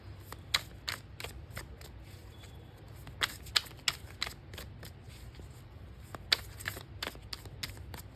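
Tarot cards are shuffled and drawn from the deck, with quiet riffles and sharp, irregular flicks and snaps that come close together over a low room hum, with no talking.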